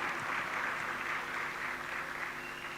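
Steady, fairly faint applause from a graduation ceremony audience at Herbert Morrison Technical High School, an even wash of many hands clapping that continues without a break, with a low hum underneath.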